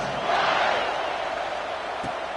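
A stadium crowd cheers in the video game NCAA 26 / Madden 26 at a kickoff, a broad, steady roar that swells early and holds at a distance, with no one talking over it.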